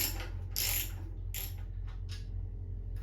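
Metallic clinks and ratcheting clicks from a wrench on the bottom bolt of a 1997 Harley-Davidson Heritage Classic petrol tank ring out in short bursts over a steady low hum.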